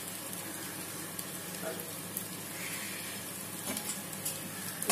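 Surmai fish curry gently mixed with a spoon in a pan over medium flame, a continuous even sizzle and bubbling with faint soft stirring scrapes, close and steady, with no speech.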